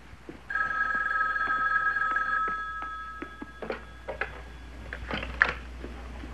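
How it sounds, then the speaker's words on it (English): A telephone bell rings in a steady trill for about two seconds, then falls silent while faint indoor clicks and small knocks follow in a quiet room. "the phone is ringing"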